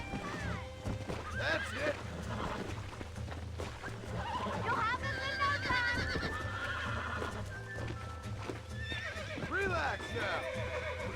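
A wild horse being broken in the Red Dead Redemption video game neighs and whinnies repeatedly, with hoof clip-clop and steady game ambience beneath, while someone talks over it.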